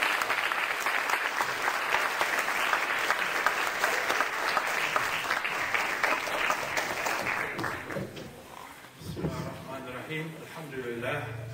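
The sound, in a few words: audience applause welcoming speaker Dr. Hamid Algar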